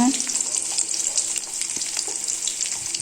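Onion frying in hot oil in a pan for beetroot poriyal, a close, steady bright sizzle with crackles and a few stirring scrapes, no talking.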